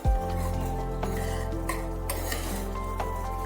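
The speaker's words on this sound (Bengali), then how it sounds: "দিয়ে একটু ভালোভাবে নাড়িয়ে নিতে হবে" Pea dal with ghee is stirred in a pan, with a spoon scraping and clinking against the metal under a steady low sizzle, in several short strokes close up.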